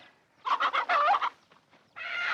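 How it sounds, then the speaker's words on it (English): An old hen clucks in a quick burst of several rapid notes, then a short pause and another call, close and clear with no talk over it. "what's happened to that old hen?"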